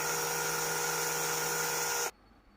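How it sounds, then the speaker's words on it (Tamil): A small drill machine boring a hole for the horn of a model airplane, a steady high-pitched whine running for about two seconds before cutting off abruptly. "ஹார்ன் ஃபிட் பண்ணுறதுக்கு நம்ம ட்ரில் மிஷினை வச்சு ஓட்ட போட்டுக்கிறோம்"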